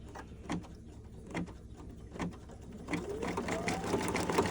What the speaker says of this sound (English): I'm stitching right there along the bottom, just so it's going to secure it inside the case